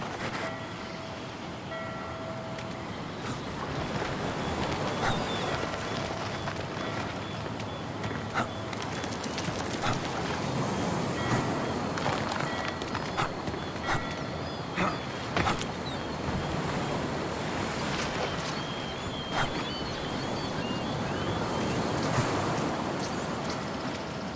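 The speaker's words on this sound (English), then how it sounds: "Wind's coming in off the water tonight." Wind and surf roll in off the water at a nighttime shoreline in Splinter Cell: Blacklist, Guantanamo Bay, as a steady broadband wash with scattered clicks and small thuds throughout, no voices.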